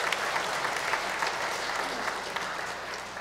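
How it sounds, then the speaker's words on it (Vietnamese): A church congregation claps loudly at a Christmas Eve Mass, sustained dense applause throughout with no voices on top. "một tràng pháo tay thật lớn"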